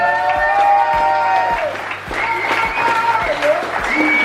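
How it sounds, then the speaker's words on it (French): Audience applause in a hall at a poker event's opening ceremony, steady clapping over a few seconds with a voice speaking and some tonal sound running underneath. "Donc je vous demande d'applaudir Monsieur Guillaume Oliveira, ici présent."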